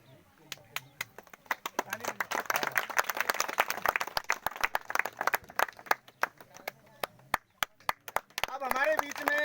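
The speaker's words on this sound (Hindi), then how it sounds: "जोरदार तालियों से आप उनका भी स्वागत करें" Audience clapping at an outdoor puja ceremony, welcoming guests with sharp, uneven handclaps that build into steady applause, while a voice speaks faintly over it.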